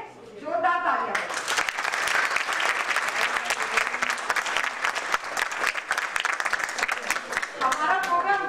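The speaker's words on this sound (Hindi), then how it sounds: "इसके लिए इन सब डोनर्स के लिए जोरदार तालियां।" An audience bursts into loud, sustained applause for scholarship donors at an award event, a dense wash of clapping that runs for several seconds between brief stretches of a voice speaking at the start and end.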